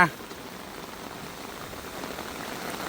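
Rain falls steadily at a home in the countryside, a soft even hiss of drops on surfaces lasting throughout after a brief opening sound.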